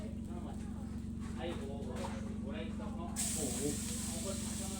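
Garlic frying in a hot pan gives a steady hiss and sizzle that grows louder near the end, with a person talking over it.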